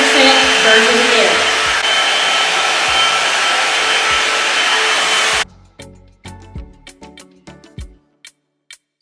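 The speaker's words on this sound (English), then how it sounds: "Blow dryer time." A hair dryer blows loudly and steadily for about five seconds, then cuts off, leaving a series of sharp ticks and clicks in near silence.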